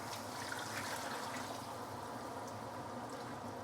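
Water pours and trickles steadily into a braising pot for Chinese braised pork hock, a continuous close liquid splash with no talk.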